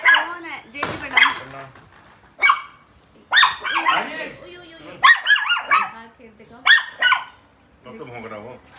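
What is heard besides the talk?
dog barking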